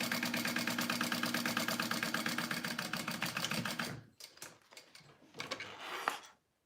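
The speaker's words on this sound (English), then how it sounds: "I'm just sewing along that line." A sewing machine stitches a line on a wristlet with a fast steady mechanical rattle for about four seconds, then stops and gives way to a few scattered clicks and handling sounds.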